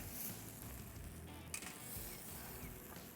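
Steady, faint sizzling of ribeye steaks in a hot pan, a broad continuous hiss with one brief sharper crackle midway, no voices.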